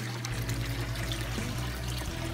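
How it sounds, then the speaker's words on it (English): Water pours from pipes into aquaponics grow beds, a continuous splashing, trickling flow at close range with a low steady rumble underneath. "pipes going into the grow beds, filling it with water."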